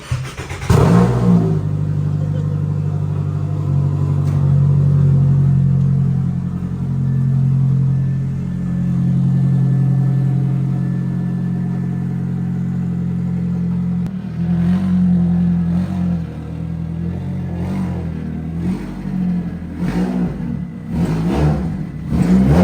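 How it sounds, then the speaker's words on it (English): A car engine turns over and catches, then holds a loud, steady idle with a deep hum and gentle swells. Near the end it revs more sharply. "My car's gonna start."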